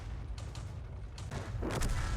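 An autocannon, either 20 mm or 30 mm, fires from a Lorraine 39L AM tank in a tank video game, with a few quick muffled bursts of shots in the distance over a rumbling background.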